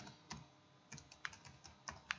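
Typing on a computer keyboard: a quiet, close run of irregular key clicks, a handful of taps with a few slightly sharper strokes.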